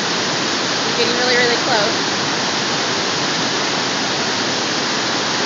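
A river waterfall roars with a steady, loud broadband rush throughout, while birds sit near the edge of the falls and a person speaks briefly over the water noise.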